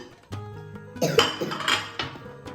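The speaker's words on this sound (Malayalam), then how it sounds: "അപ്പൊ നമുക്ക് പ്ലേറ്റ് എടുക്കാം." A plate picked up among dishes in a kitchen, with several close, sharp clinks and clatters of crockery and cutlery in quick, irregular bursts.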